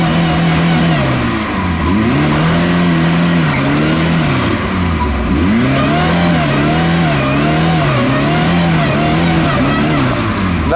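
A UAZ off-road vehicle's engine revs hard and repeatedly while stuck in mud, loud and close, the pitch rising and falling in steady surges that keep straining for the whole stretch.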